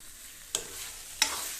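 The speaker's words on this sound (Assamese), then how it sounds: "এইখিনি মগু দাইল আদা নহৰু পিঁয়াজ সকলোবিলাক ভালকৈ মিহলাই অলপ সময় ভাজি ল'ম" Moong dal, ginger, garlic and onion fry in a pan with a soft, steady sizzle, cut by two quick scraping stirs of a spoon, close and without speech.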